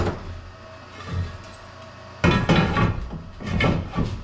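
Dents hammered out of a beadlock wheel during a stiffener installation: after a quiet stretch, a series of loud, close metallic bangs and clatters rings out in uneven bursts.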